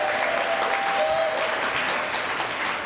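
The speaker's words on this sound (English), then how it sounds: "Now, how about a round of applause for Jeff?" Steady, dense applause from an audience at the 2023 Mayor's Reception and Chamber Volunteer Awards Ceremony, a full crowd clapping continuously and evenly from start to finish without any voices over it.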